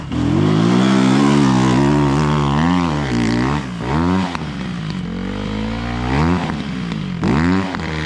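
A Rottor Bronx 300 motorcycle engine approaches and revs hard, its pitch rising and falling through repeated throttle blips. It is loud and close throughout with no talk.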